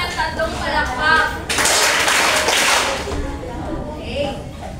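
A classroom of students claps together in a short patterned cheer of three claps, loud and close, heard over and around a teacher's talk.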